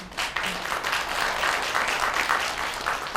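An audience at a peace day seminar gives a warm, sustained round of applause, a dense even wash of many hands clapping with no talk over it.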